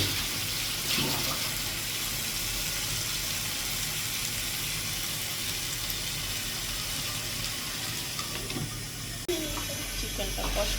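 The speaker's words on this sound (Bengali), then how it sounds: "এই পর্যায়ে আমি একটু গরম পানি দিয়ে দেবো" Hot water is poured into a chicken curry in a pan at home, a continuous rushing, splashing flow lasting several seconds with a short break and some clattering toward the end.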